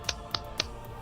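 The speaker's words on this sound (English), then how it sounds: "That was a golf clap" A slow, sarcastic golf clap during a tabletop Curse of Strahd session: three sparse, soft claps spaced evenly about a quarter second apart, close and quiet.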